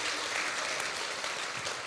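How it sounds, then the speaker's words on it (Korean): An audience at a talk about Incheon applauds, a dense, even wash of many hands clapping at once, moderately distant and fairly quiet, sustained with no voices over it. "박수 한번 세게 보내주시기 바랍니다"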